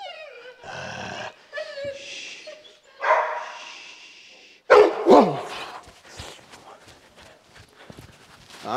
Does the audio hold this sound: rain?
no